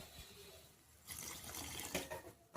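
About half a tumbler of water is poured into cooking masala for a chicken gravy, a faint splashing pour that starts abruptly after a quiet moment and runs for under two seconds.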